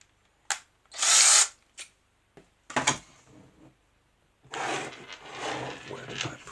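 A power drill being used while making a stop-motion bus with magnetized eyes, in short bursts: a loud whir near the start, a couple of brief spurts, then a longer steady run at the end.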